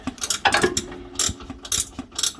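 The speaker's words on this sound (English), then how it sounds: "Beautiful ratchet." A GearWrench ratchet spanner clicks in quick, uneven bursts of sharp pawl ticks, close and clear, during fitment of an Old Man Emu lift kit on a Suzuki Jimny rear axle.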